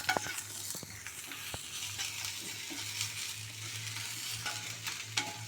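Flattened rice (aval) fries in a pan with salt, giving a soft, steady sizzle broken by intermittent scraping and clinking stirring strokes, heard close with no talk.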